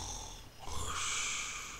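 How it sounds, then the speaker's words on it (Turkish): A mob snores in the Minecraft video game, one drawn-out, airy snore that swells and fades over a low background rumble, near and fairly quiet, with no talking. "Horlama sesini duyuyor musunuz?"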